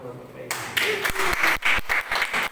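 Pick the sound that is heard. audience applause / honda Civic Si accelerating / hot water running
audience applause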